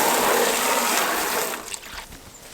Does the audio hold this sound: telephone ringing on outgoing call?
no